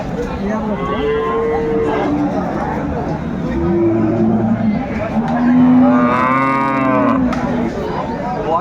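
Cows and calves at a busy cattle market in Aftabganj, Dinajpur, give several long, loud moos, some overlapping near the end, over a constant crowd babble and nearby talk.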